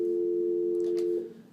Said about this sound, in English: pick up the handset and you'll get dial tone